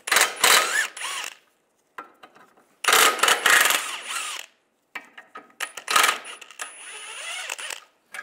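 Ratchet wrench with a 13 mm socket loosening lower ball joint bolts on a 1999-2005 Volkswagen Jetta, three bursts of rapid metallic clicking separated by short pauses, close and clear.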